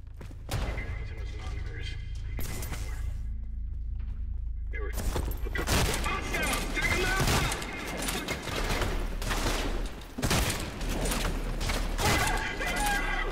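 Shotgun gunfire during a breach and clear in the video game Trepang2: loud, close blasts and rapid shots mixed with mechanical clatter and action noise, with a voice speaking over parts of it.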